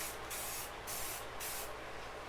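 Spray primer goes on in light coats as car prep before vinyl wrapping, heard as close, steady aerosol hissing in several short bursts.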